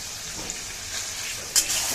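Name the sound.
potatoes being sautéed in a pan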